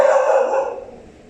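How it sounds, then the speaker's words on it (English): A dog gives a single loud, close bark in a house, a short sharp yelp that rings out and fades over about a second. "Sorry for the dog barking."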